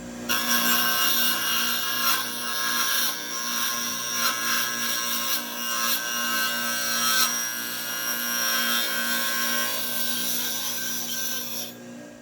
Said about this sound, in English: I've got my circular saw blade in there, and I'll reattach the plate and then we'll do our first cut.